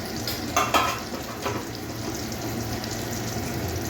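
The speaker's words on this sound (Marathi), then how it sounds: "हे चांगले तेलामध्ये परतून घेऊया" Boiled potatoes with turmeric, red chilli powder and other spices are sautéed in hot oil in a pan, a steady sizzle with a couple of brief scraping stirs near the start.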